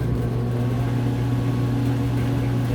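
A water ice batch freezer's dasher motor runs with a steady, droning hum and low mechanical whir, constant and close throughout.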